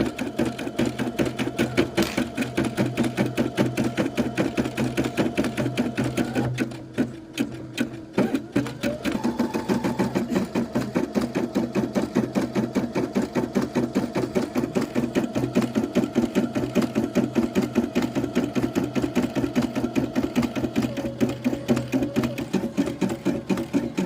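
A Brother SE600 embroidery machine stitches large letters on hooped fabric with a fast, steady mechanical chatter. The run is close and continuous, with one brief pause partway through and no talking.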